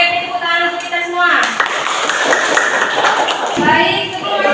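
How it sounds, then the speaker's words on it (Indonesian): Students in a classroom clap together, a dense burst of hand claps that swells after a moment and runs steadily, with voices mixed in near the start and end. "tepuk tangan untuk kita semua"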